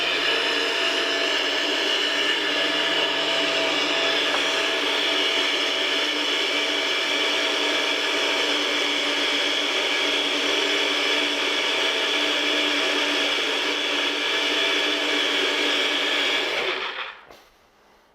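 NutriBullet blender with extractor blades whirring through a honey recipe, a loud, steady high-pitched motor whine that holds for about sixteen seconds before cutting off abruptly.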